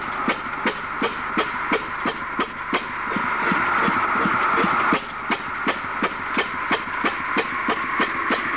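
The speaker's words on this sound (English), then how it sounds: "As you'll note by the tone of the engine, it does have a hit and miss governor." Old Ruston Hornsby diesel stationary engine with a hit-and-miss governor, firing in steady evenly spaced thumps, close by, with a brief stretch of smoother running midway before the regular beats resume.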